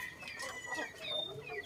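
Pure Japanese shamo chickens cluck softly in a short burst, several birds close by in a yard with scratchy, uneven calls over a faint outdoor background.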